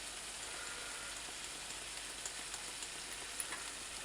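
Prawns fry with garlic, ginger, turmeric and coriander in a hot pan, giving a steady, faint hiss and crackle with small pops and no voices.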